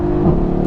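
A heavy Mercedes E63 sedan accelerates hard, its engine giving a steady, loud, close drone over a short burst with no talking.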